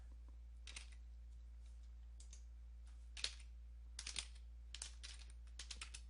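A command being typed on a computer keyboard: scattered clusters of light key clicks with short pauses between bursts, close and quiet over a low steady hum, no talk.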